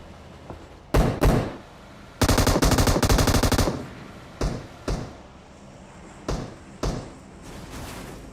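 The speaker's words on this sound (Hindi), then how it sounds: "अब यहाँ पे एक बंदा M249 चलाता है" An M249 machine gun fires in PUBG Mobile, with loud close bursts: a short burst, then a long sustained stream of rapid shots, followed by several single heavy reports spaced apart.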